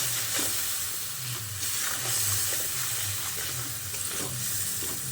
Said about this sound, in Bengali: দিয়ে মশলাটাকে ভালো করে কষিয়ে নিতে হবে।